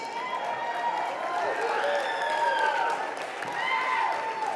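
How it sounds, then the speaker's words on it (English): Applause fills a convention banquet hall after a speech, a sustained, distant wash of many hands clapping in a large room, with whistles or cheering tones rising over it. "And as you hear our applause"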